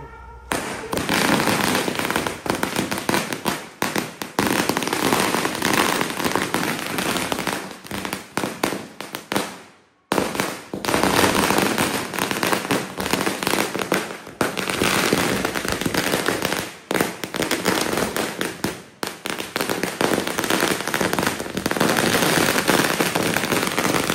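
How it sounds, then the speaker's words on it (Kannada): Firecrackers burst at a Ganapathi festival celebration in rapid, continuous volleys of sharp cracks and pops, loud and dense, with one brief lull midway before the barrage resumes. "ಇದು ಹೊಸ ಪಟಾಕಿ ಐತ್ರಿ"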